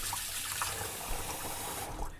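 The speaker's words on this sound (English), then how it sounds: "And you rinse until the water comes out somewhat clear." Cold tap water runs continuously while rice is rinsed for Danish rice pudding, a steady close splashing rush that fades near the end.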